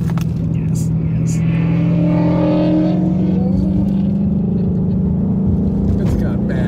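A 2020 Mustang Shelby GT500 with Track Pack revs, supercharger whine rising over a throaty exhaust rumble, steady and close, with a few sharp clicks scattered through.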